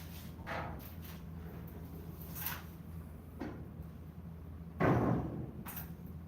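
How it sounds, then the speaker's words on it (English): Lambo-style scissor doors on a car in a garage open and close, making a few soft mechanical swings and clunks with one louder, longer movement near the end, against a low steady background hum. "Lambo doors."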